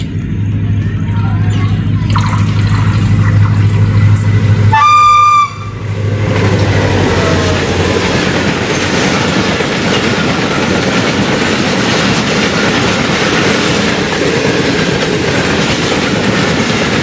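The Rehman Baba 47 Up passenger train roars loudly past Abdul Hakim railway station, with a steady rumble of passing carriages and a brief blast of the horn early on.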